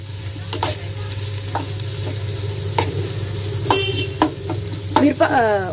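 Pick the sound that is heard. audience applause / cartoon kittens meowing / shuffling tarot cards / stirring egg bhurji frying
stirring egg bhurji frying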